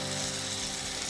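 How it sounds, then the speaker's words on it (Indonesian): Seblak spices with kencur sautéing in hot oil in a pan, a dense continuous sizzle and crackle, close and steady for about a second. "Ini kita tumis aja sampai harum."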